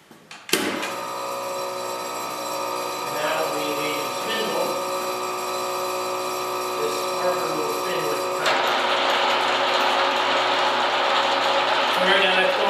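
A 1946 Induma UR-2 horizontal milling machine starts up with a sharp click, then whirs and clatters steadily with gear and mechanism noise, growing a bit louder and brighter partway through as it keeps running.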